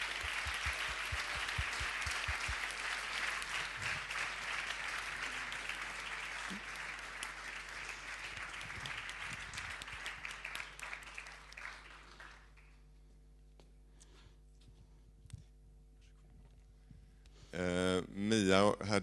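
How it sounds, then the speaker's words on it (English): Audience applause at the 2013 Dragon Awards ceremony, a dense sustained clapping from a crowd for about twelve seconds that fades out, followed by a quiet pause and then a voice at the end. "A big applause."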